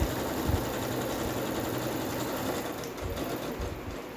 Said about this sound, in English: just a few stitches. Make sure you reverse so that your stitch there will not open out on you.